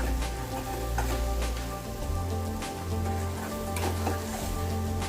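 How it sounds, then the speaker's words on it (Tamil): Eggs frying with capsicum in a pan over medium heat and being stirred, giving a steady close sizzle with light scraping and stirring clicks throughout and no talk. "அதனால் மிதமான தீயிலே வச்சு எல்லாத்தையும் நல்லா கிளறி விட்டுக்கலாம்"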